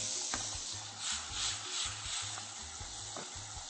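Onion, pineapple and tomato frying in hot oil for a sweet and sour fish sauce, giving a steady broadband sizzle with soft bursts of crackle and a low rhythmic hum beneath, no talk.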